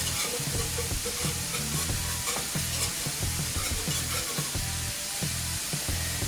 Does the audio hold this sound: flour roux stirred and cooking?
yes